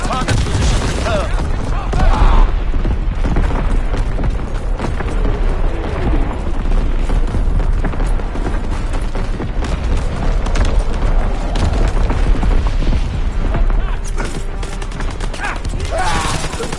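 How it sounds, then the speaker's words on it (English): Loud, continuous barrage of artillery fire and explosions in a PS4 war video game, booming blasts and crackling gunfire layered together throughout, with voices calling out over the din. "Firing primary battery."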